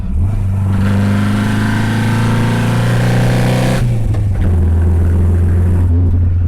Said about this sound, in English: Let's do a little downshift for you.